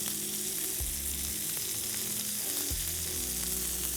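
Chicken wings fry steadily in a pan as salted butter is added, giving a continuous broadband sizzle with low clunks of the pan being moved, no voices.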